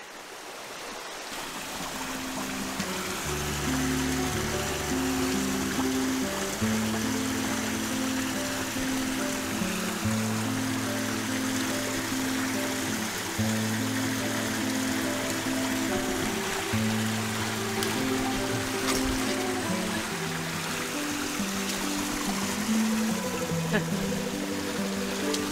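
Creek water flows in a continuous, steady rush close by, with a droning tonal hum layered over it throughout.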